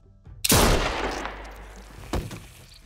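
A single loud gunshot cracks out in The Walking Dead: A New Frontier, followed by a long reverberating tail and a second, weaker shot or impact near the end.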